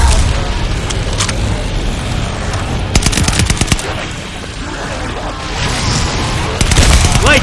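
Carpet bombing in Call of Duty Vanguard Zombies comes as dense rapid bursts of gunfire-like blasts and booms, loud and close, with a short lull in the middle before the barrage swells again.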